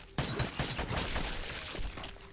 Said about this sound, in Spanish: Aquí vamos a disparar. Tengo una pistola nueva.